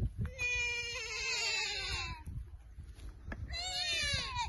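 A sheep bleats in two long, wavering cries separated by a short pause, close and fairly loud over faint background noise.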